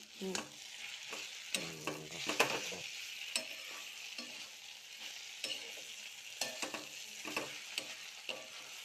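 Ghee sizzling in a pan while a papaya ghonto is stirred, with a quiet bed of frying hiss under repeated spoon scrapes and knocks, close by.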